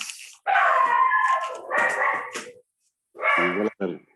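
A small dog barks and yips in several bursts, close up and loud, with brief pauses between the outbursts.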